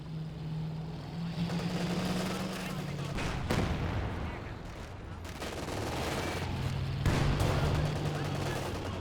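An M1 anti-tank gun fires in a Company of Heroes 2 match, with sharp booming shots and scattered battlefield gunfire over a low engine drone while a commentator talks throughout.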